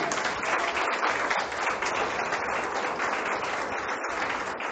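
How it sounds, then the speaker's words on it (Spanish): A church congregation applauds loudly and steadily the whole time. The clapping is dense and even, with no speech on top. "den un aplauso al Señor"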